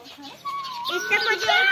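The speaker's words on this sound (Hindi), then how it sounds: "और अभी चिड़िया देखो कितनी चहचहा रही है यहाँ" Birds chirping near a malta fruit tree outside a village house, a few bright high tweets close by with someone talking over them.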